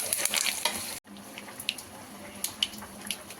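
Curry leaves dropped into hot oil while frying a gongura and ripe red chilli chutney, giving a brief loud burst of sizzle and spatter, a short break, then lighter crackling pops close by.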